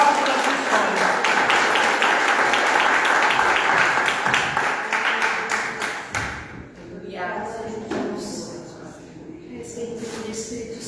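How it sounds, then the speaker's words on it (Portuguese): Church congregation clapping for the Lord, a loud rhythmic patter that fades after about six seconds into scattered claps and quiet room sound with a voice speaking over it. "E você que acredita, aplauda ao Senhor"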